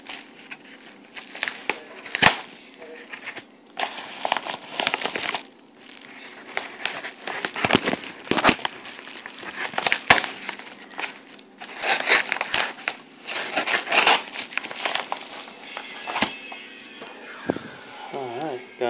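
Hard plastic packaging case of an N82 tactical holster being opened by hand, with irregular crinkling, rustling and sharp clicks and snaps in bursts, close up, with occasional talk.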